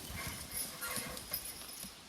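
Logging horses stepping in the woods, their hooves making soft, irregular clip-clops on the ground, faint and somewhat distant against background noise.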